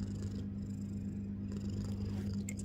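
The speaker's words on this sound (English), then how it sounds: "The cutest kitty ever." A cat purring steadily and close up, a low, continuous rumbling drone with no breaks, some faint rustling on top and no voices.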